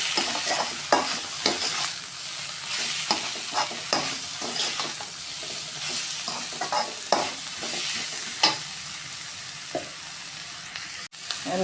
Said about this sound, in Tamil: போட்டு நல்லா வதக்கி விட்டுக்கலாம்.